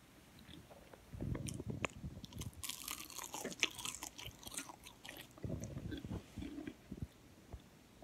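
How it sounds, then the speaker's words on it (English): Close, crisp crunching as fried plantain is bitten and chewed, several crackly bites followed by quieter chewing, with no talking. "I'll take a bite closer so you can hear the crunch."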